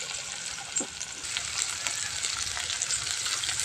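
Onions fry in a pan with a steady, close sizzling hiss and a few faint stirring scrapes, with no one talking.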